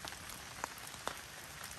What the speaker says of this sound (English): this rain is actually cooling me off too